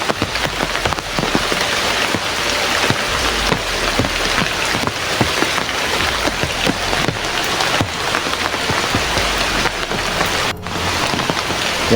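Heavy rain pours down steadily during an outdoor exploration in the Philippines, a dense, continuous roar of drops hitting surfaces, loud and close throughout with no talking.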